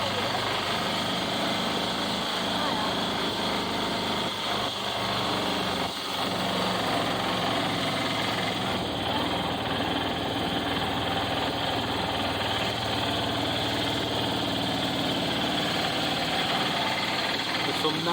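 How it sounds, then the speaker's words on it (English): A tuk-tuk's small engine drones steadily throughout at a constant, buzzy idle, moderately loud, with a faint voice now and then underneath, in Sintra, Portugal. "Never been in a tuk-tuk before."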